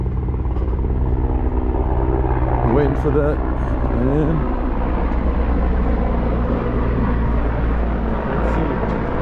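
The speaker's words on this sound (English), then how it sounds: "Big ass army helicopter right there." A low-flying army helicopter passes overhead in the Skardu region of Pakistan, a loud, steady engine and rotor roar filling the whole stretch beneath a voice speaking.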